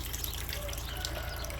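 Water siphons out of a pipe into a pool made from recycled tires, a steady close rushing and gushing that runs unbroken throughout.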